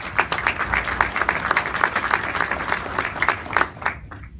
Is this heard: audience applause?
yes